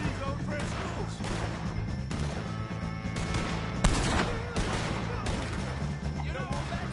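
A Red Dead Redemption 2 shootout with O'Driscoll gang members brings repeated gunshots and rolling volleys under shouted in-game voices and a dense battle din.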